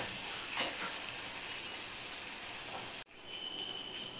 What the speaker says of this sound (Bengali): এটা ভাজা করে নেব।